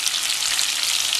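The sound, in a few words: meatballs frying with garlic in a pan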